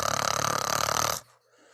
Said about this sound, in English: Bernard snored loudly.